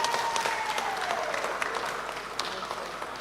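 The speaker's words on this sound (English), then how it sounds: "Round of applause. A round of applause." Steady applause from a church seminar audience, a continuous patter of many hands at moderate level that slowly tapers off.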